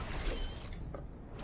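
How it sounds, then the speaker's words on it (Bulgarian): A Batman grappler gadget fires in the Fortnite video game, giving a short mechanical clattering and creaking burst over dense game noise, close and fairly loud, with no voices. "Батманския граплер."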